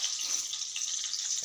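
Water drains steadily from soaked soybean chunks for a Khandeshi-style soybean curry, a continuous close trickle and splash like running water into a sink, with no talking.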